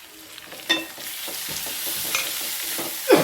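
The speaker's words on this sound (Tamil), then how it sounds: "இஞ்சி வதங்கட்டேங்க. இப்போது சின்ன பழம் தக்காளி பழம் போட்டிருக்கேன்" Ginger and small tomatoes sautéing in a pan for a potato masala, a soft steady sizzle broken by a few sharp scrapes and knocks of a spoon stirring, with no talking.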